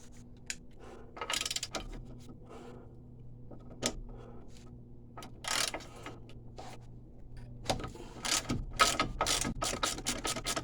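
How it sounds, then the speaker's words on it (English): A 17mm ratchet socket clicks in quick bursts while undoing a ball joint nut on a 2011 Kia Ceed, the ticking pawl coming in spaced runs with short pauses. "Now we need to go and get a socket, get that off"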